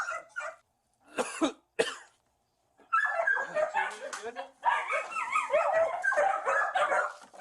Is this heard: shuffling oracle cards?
no